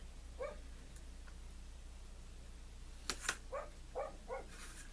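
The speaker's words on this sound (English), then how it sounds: "And the dogs are barking." Faint dogs bark a few times in the distance over a low steady hum, with short sharp yips clustered near the end.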